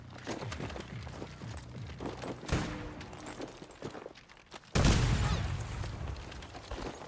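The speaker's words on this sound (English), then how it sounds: "So these are the scatter grenades right here." Scatter grenades going off in the shooter game Battlefield 2042, a layered run of gunfire-like pops and rumbling booms, with a heavy blast near the end that leaves a loud, sustained roar.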